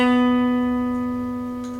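One guitar note plucked while playing a song rings out clearly on its own and slowly fades.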